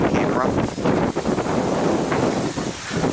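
Strong wind during a Texas rain storm buffets the microphone outdoors near buildings, a loud continuous roaring rush with gusty surges.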